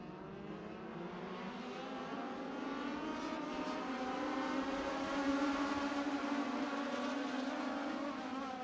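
Race cars circling Irwindale Speedway under caution, a steady engine drone rising in pitch and loudness as the pack passes, heard from a distance with no voices.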